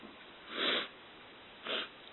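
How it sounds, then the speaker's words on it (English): Two nasal sniffles from a person with a cold, a longer one followed by a shorter one after a pause, close and fairly soft with no speech. "Sorry I keep sniffling."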